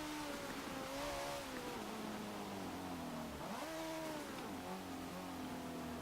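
The engine of a 1995 Audi RS2 Avant racing in Forza Motorsport 7 drones loud and steady, its pitch climbing and dipping as it revs through the gears, with road and wind noise underneath.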